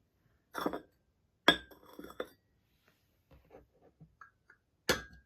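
An antique porcelain cup is set down three times with bright, delicate clinks, each one ringing briefly and undamped, with soft handling sounds between them.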